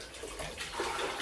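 About two litres of water pours into a bucket of sugar while making a pollen patty, a short, steady, close splashing rush lasting just over a second.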